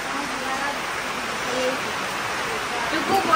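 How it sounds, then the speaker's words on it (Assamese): Rain falling outdoors in Assam, a steady even hiss of broad noise throughout, swelling slightly at the end. "বৰষুণ"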